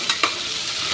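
Curry leaves and coriander sauté in a hot pan, giving a loud, even sizzle with two quick stirring scrapes near the start.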